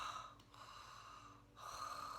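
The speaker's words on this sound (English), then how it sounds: "It's an aggressive Ujjayi breathing, is a common term for the yogic breathing." Forceful Ujjayi yogic breathing drawn through a constricted throat, a rough Darth Vader-like rasp; a loud breath at the start, a quieter stretch in the middle, then another strong breath toward the end, close and alone.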